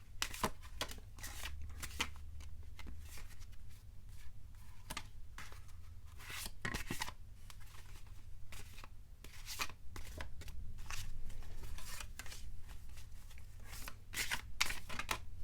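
Tarot cards are shuffled by hand, giving a steady run of soft riffling and snapping flicks close by at low volume for about fifteen seconds, with no talking.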